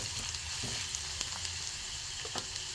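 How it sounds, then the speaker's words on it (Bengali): Garlic and onion frying gently on low heat, a soft steady sizzle with faint crackles and occasional small pops, close by and without voices. "কমিয়ে কমিয়ে একটু ভালো করে ভেজে নেবো রসুন আর পেঁয়াজ"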